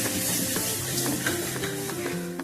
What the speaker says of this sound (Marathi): थोडं तेल सुटलं आणखी थोडं परतूया, म्हणजे आपला मसाला बी परतून जाईल.